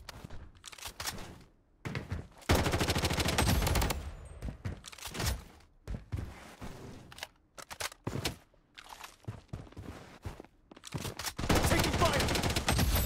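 Gunfire in the video game Blood Strike: loud, rapid automatic bursts and single shots repeat in dense clusters with short pauses between, along with thuds and crunching impacts and brief game announcer voice lines.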